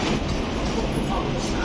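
A train moving through Roma Termini station, a steady loud rumble of rolling carriages with faint rail clatter, close by and continuous, no talking over it.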